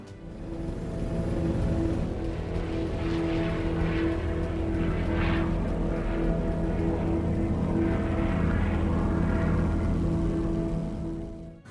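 A plane passes overhead above land and sea in a Dunkirk war film scene, its propeller engine making a sustained, broad drone that stays steady and fairly loud throughout.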